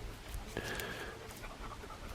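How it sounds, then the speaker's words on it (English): A female dog pants rapidly and steadily close by during a post-rut stag hunt on public land in New Zealand, a quick continuous breathy rhythm with no talking over it. "excuse the panting dog."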